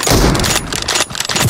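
Gunfire in PUBG Mobile from an M24 sniper rifle, loud and close: heavy cracking blasts with a brief dip between them, dense and harsh with no voices over it.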